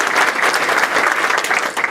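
Audience at a high school gathering claps for school board members, loud, dense, close-up applause continuing throughout.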